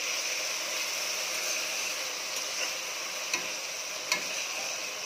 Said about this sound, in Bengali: বেগুনগুলো দিয়ে আমি ভালো করে নাড়াচাড়া করে দিচ্ছি এটাকে।